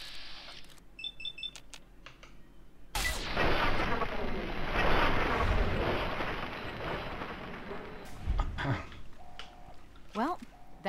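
Gunfire and explosive blasts in the video game Fallout 3, a sustained loud roar of shots over in-game electronic beeps, with a voice talking over parts of it.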